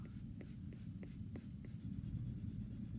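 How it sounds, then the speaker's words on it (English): Graphite pencil shading on paper, done with the side of the lead: quiet, close scratchy strokes drawn back and forth in a loose repeating rhythm, with no talking. "you can actually shade with the side of the pencil"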